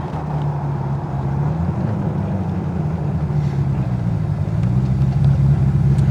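Westfield Seight with a 3.9 litre V8 settling to idle, a loud close engine burble holding a steady low rumble with a slight swell toward the end, no voices over it.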